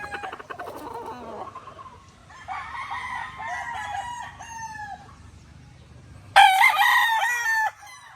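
Raptor bulik gamefowl rooster crowing several times in succession, clear and fairly close, the final crow loudest and sharpest.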